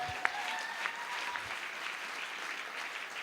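A church congregation applauding, with sustained, dense clapping from many hands that holds a steady level throughout, filling the room evenly from start to finish.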